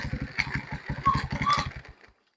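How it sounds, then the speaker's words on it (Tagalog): Electric starter cranking the engine of a Euro 150 motorcycle with a weak battery, a rapid rhythmic churning for about two seconds before it cuts off, loud and close. "Kaya pa niya mag-electric electric starter."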